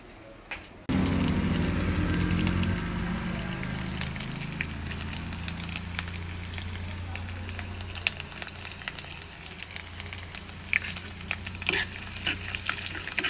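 Tiny chopped coconut pieces fry in a pan for ada pradhaman with a steady, close sizzle that kicks in abruptly about a second in and carries on unbroken, dotted with faint scrapes and clicks of stirring.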